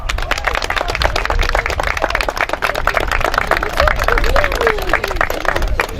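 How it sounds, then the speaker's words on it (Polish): Dense, loud applause from a crowd at a municipal event, steady clapping filling the whole stretch with voices mixed in under it. "Brawa!"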